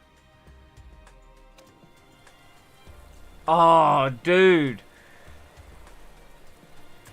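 Light rain falls at the start of a race in a racing video game, a low, faint hiss under the game audio, while someone briefly speaks over it.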